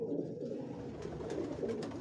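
Purebred pigeons on a Lahore rooftop coo in a low, continuous, throaty murmur, close and soft, with a few faint sharper sounds above.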